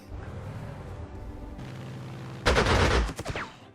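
Aircraft strafing gunfire in the WW2 strategy game Panzer Corps 2, a loud burst of rapid shots after a steady rumbling background, then tailing off.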